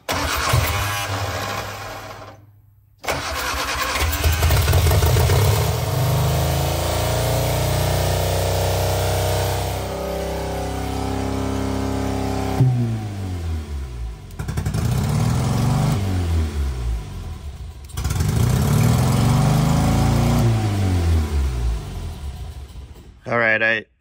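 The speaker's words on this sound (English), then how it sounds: "turn the ignition on, give it a little bit of starter fluid, and see if anything happens" The engine of a barn-find Austin-Healey Sprite cranks and catches on starter fluid, running in rough, uneven bursts that die away and restart, loud and close, with someone talking at times.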